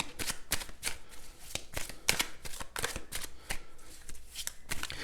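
Tarot-style cards for a card reading are shuffled and handled up close, with repeated quick flicking riffles and soft slaps arriving in irregular bursts.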